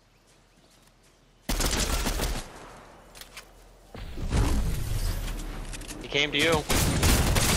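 Fortnite gunfire rattles in dense automatic bursts after a quiet start, loud and close, with sharp single shots and whooshes mixed in while a voice talks briefly over the action.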